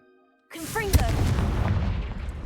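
After a brief near-silence, a sudden loud blast erupts as the Confringo explosion spell is cast in a video game, followed by a rumbling, crackling tail; a voice speaks during the onset.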